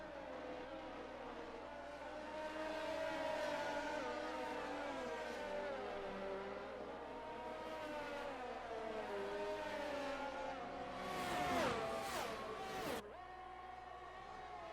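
Formula 1 race cars in F1 22 at Silverstone, Great Britain, roar with layered, rising and falling engine whines as several cars pass and accelerate, building to a sharp high-revving burst near the end.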